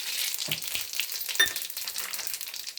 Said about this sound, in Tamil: ஃபஸ்ட்டு கொஞ்சம் கடுகு தாளிச்சிக்கலாம் கொஞ்சம் ஜீரகம் அதுக்கப்புறமா கடலை பருப்பு